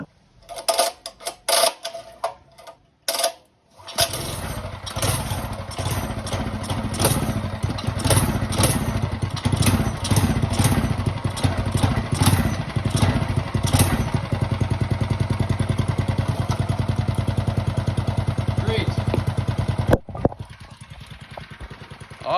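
A mini bike's small single-cylinder engine fitted with a new aluminum flywheel starts after a few sputtering pulls, then runs steadily up close, a loud, even putter with rhythmic clatter throughout.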